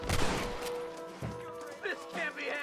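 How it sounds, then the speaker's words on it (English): Gunfire in the Red Dead Redemption western video game comes as a burst of sharp shots at the start, then another report a moment later, while game characters talk over it. "See, I shot him in the leg."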